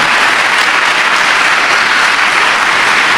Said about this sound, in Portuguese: E as palmas são para Jesus.